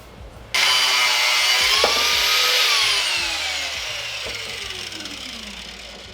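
A power tool cuts through a scribed piece of a GK Tech shifter during a budget LS-swapped Miata install, starting abruptly and whining loudly and steadily, its pitch slowly dropping as the cut progresses, alone without talk.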